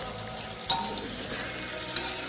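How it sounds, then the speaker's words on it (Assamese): Potato pieces fry in hot oil inside a pressure cooker for mutton pulao, a steady close sizzle and crackle with a light stir near the start. "ধুনীয়াকৈ আলুখিনি অকণমান ভাজি লওঁ"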